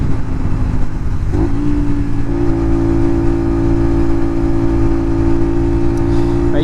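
A Honda VTR 250 motorcycle accelerates to overtake on a straight country road near Tauranga, its loud steady engine drone rising in pitch partway through over constant wind rush.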